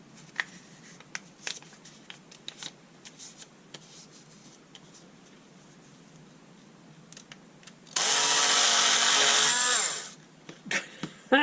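A Bosch 7.2V cordless cloth cutter slices through four stacked sheets of paper, a loud, steady motor whine lasting about two seconds, close by, after quiet paper handling and small taps.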